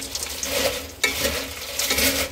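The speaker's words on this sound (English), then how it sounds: "So we're gonna mix this about 4 minutes. Gotta make sure the syrup gets to all the cereal." Cereal coated in syrup is stirred in a pan for furikake Chex Mix, giving a continuous dry rustling and scraping with a faint sizzle and one sharp clack of the utensil against the pan.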